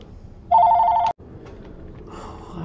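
A telephone bell rings loudly in a steady trilling burst for about half a second, then cuts off abruptly, leaving a quiet room tone with faint background sounds, heard while playing the game 7 Days to Die.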